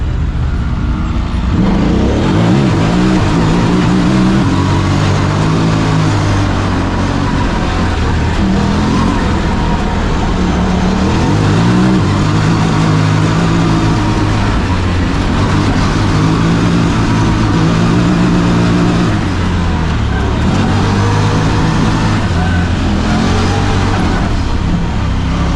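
A 2025 Honda Talon 1000R side-by-side with a Jackson Racing turbo drives off-road. Its engine drones loudly and continuously from up close, pitch climbing and dropping with throttle and shifts.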